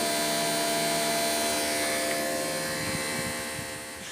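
A Greenworks Pro 2700 PSI electric pressure washer runs steadily and loudly close by, a dense continuous motor-and-spray drone with a faint hum that eases slightly toward the end.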